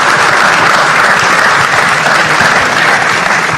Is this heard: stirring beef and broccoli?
no